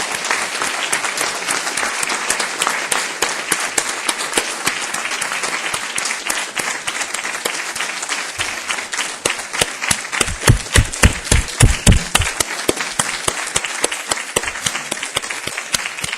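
An audience applauds after a talk by Coleman Fung of OpenLink Financial, with dense, sustained clapping from a crowd that swells into louder, more distinct claps near the end.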